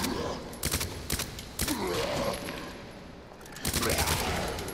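Submachine gun fire in the Resident Evil 2 Remake, several loud automatic bursts spaced across a few seconds over a tense game soundscape.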